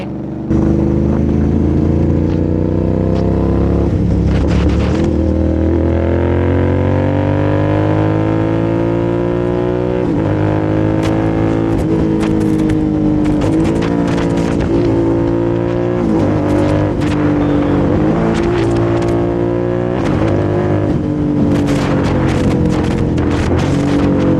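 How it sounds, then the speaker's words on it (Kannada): A Royal Enfield GT 650 motorcycle engine revs up toward the red line and holds there, loud and close, its pitch climbing and falling across repeated throttle pulls. "ರೆಡ್ ಲೈನ್ ನೋಡಿದ್ರಂತೂ ಗಿರ್ಚ್ಕೊಳುತ್ತೆ, ಹೆವಿ ಗಿರ್ಚ್ಕೊಳುತ್ತೆ ಗಾಡಿ"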